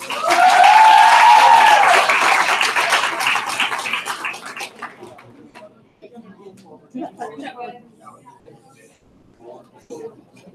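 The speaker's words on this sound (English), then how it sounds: "Round of applause," Audience applause at a poetry slam, a loud burst of dense clapping for the first two seconds that tapers off over several seconds into scattered claps and murmuring crowd voices.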